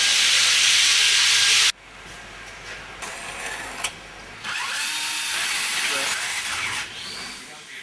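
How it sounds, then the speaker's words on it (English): A power tool grinds and polishes a hard floor screed in a building under construction. The loud, steady whine cuts off abruptly, then returns at lower strength with uneven bursts and shifts as the machine works the surface. "The screed then had to be polished."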